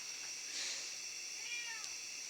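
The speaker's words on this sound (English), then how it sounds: "The cat has opinions." A cat meows indoors, one faint drawn-out call in the middle over a steady high-pitched background hiss, with a brief second sound near the end.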